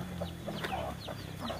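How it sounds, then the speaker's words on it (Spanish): Newly hatched chicks peep in quick, high chirps while a hen clucks low nearby, a steady close farmyard chorus with no talking. "Ahí están mis pollitos."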